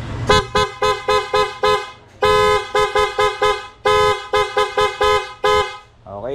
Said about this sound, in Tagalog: Loud horn natin, loud horn.